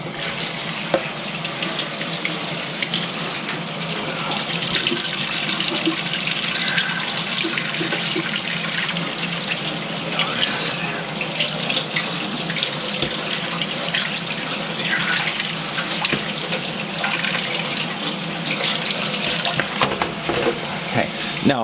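Running tap water pouring steadily into a sink as groceries are washed beneath it, a continuous close hiss and splash throughout.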